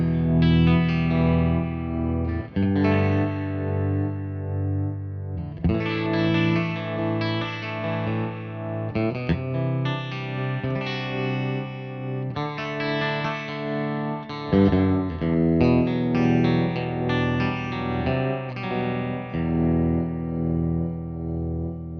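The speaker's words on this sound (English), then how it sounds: "I set up the dejavibe in stereo, so it's pretty monstrous by itself." Electric guitar played through a Dejavibe Univibe-style effect set up in stereo, ringing out in sustained, swirling chords and phrases that run continuously and fairly loud, with brief breaks between passages and no talking.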